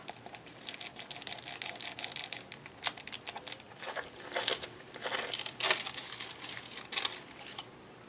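Thin foil crinkles and rustles up close in quick, irregular bursts, crisp and papery, with no voices.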